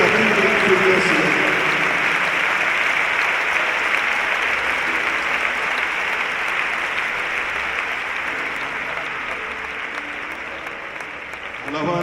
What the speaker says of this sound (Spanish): Dale ese aplauso a Jesús esta tarde